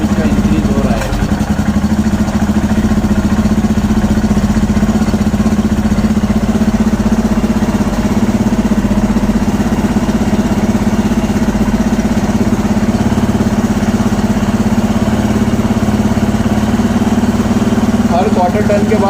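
A Royal Enfield Himalayan motorcycle engine idles steadily and loudly throughout, with a constant low throb, while its carburettor is being adjusted; any rise in revs is slight.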